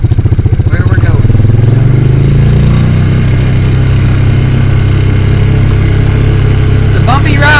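A small Polaris Ranger utility vehicle drives across bumpy farm ground near a pond and dam, its engine droning loud and close at a steady pace, with a brief rising rev near the start.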